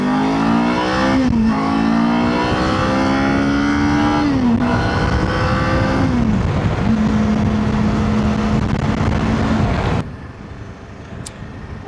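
A motorcycle engine revs hard in second gear at about 5000 rpm, a loud droning note that rises and dips through several throttle changes for ten seconds, then drops away to a quieter background.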